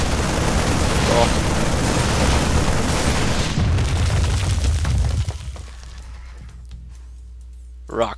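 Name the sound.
destructible rocks being destroyed in StarCraft 2 video game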